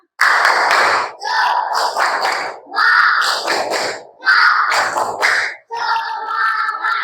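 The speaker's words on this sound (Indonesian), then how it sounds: "Ya, silakan tepuk semangat." Schoolchildren in an elementary classroom doing a spirit clap: five loud, close bursts of rhythmic clapping mixed with chanted voices, separated by brief silences.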